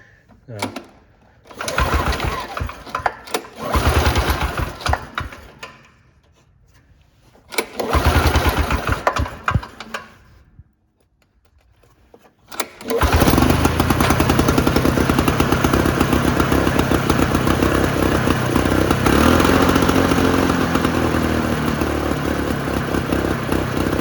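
A mid-1970s two-stroke lawn mower with a cast iron sleeve is pulled several times in short bursts. After a pause the engine catches and settles into a loud, continuous buzzing run, and a voice speaks briefly early on.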